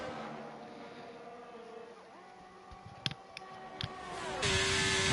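Race cars circulating Silverstone in a racing video game, a muted engine tone gliding up through gear changes, with a few sharp clicks and a louder, rougher burst near the end.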